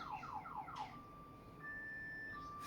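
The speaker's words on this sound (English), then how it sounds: "someone's alarm just went off" An electronic car alarm sounds nearby: a quick series of descending whoops, then a steady high tone, over quiet background hum.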